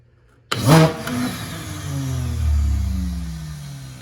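A broken shop vac motor switches on abruptly and runs roughly with a loud, strained whine and rattling hum that wavers and sags, with no voices.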